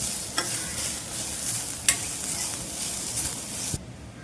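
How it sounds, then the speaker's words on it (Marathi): Grated coconut sautéed in a pan, a steady close sizzle with scraping stir strokes and occasional sharper clicks of the spoon against the pan, ending abruptly. "हे पहा खोबरं चांगलं असं आपण परतून घ्यायचं आहे"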